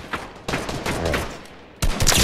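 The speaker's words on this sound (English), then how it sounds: "I just shot the air and I killed someone" Gunfire in the video game Fortnite BedWars, a burst of loud close shots crackling through the first two seconds with a sharper, louder report near the end.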